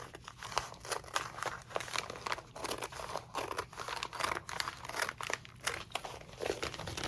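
Paper is cut by hand for a handmade journal cover, making quiet, repeated crisp snips with papery rustling in an even rhythm, close by and with no voices.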